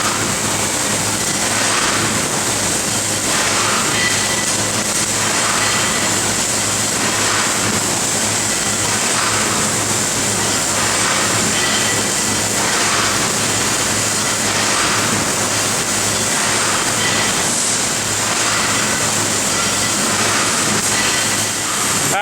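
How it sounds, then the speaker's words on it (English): An industrial welding robot arm cycles through a high-speed dry run with no welding, giving a loud, steady mechanical whir and rumble that swells in regular surges every couple of seconds, with no talking. "we're going to see it do a high-speed dry run without doing any welding"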